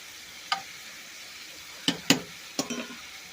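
Onions and carrots for a beef stew cooking down in a pot, a soft low sizzle under a few sharp utensil clinks and scrapes against the pot, close by with no talking.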